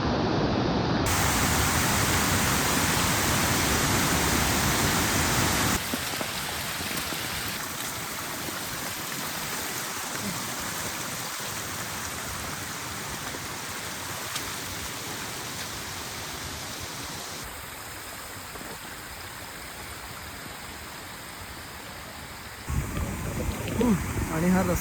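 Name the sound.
heavy rain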